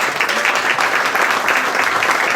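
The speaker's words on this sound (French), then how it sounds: "on peut l'applaudir." Loud, dense applause from an audience at a restaurant awards event, a continuous wash of many hands clapping that holds steady throughout.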